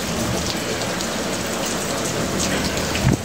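Heavy rain pours steadily in Lahore, Pakistan, a dense continuous hiss of drops hitting surfaces, close and loud throughout with a brief low thump near the end.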